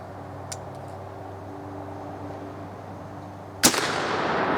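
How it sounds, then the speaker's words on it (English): Muzzleloading black powder gun with a brass capper fired outdoors at a buffalo target, a single loud, sharp report after a faint earlier click, followed by a lingering boom that fades slowly, with no talking. "Now the gun's loaded, so let's take a quick shot here."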